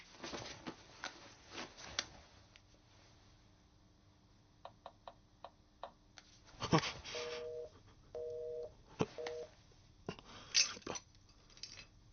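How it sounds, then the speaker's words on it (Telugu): A telephone tone beeps in a few short, evenly spaced pulses in a kitchen, set among clattering dishes and other scattered knocks, with some faint movement noise between them. "ఫోన్."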